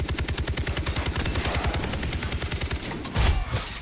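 Fast, regular automatic gunfire from Far Cry 3, a long unbroken burst of loud rhythmic shots, ending with a heavier blast and a brief clatter near the end.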